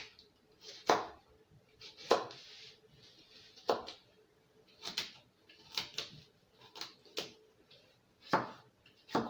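A knife slices a cucumber into small pieces on a cutting board, each cut landing as a separate, sharp knock at a slow, uneven pace, close by and with no voices.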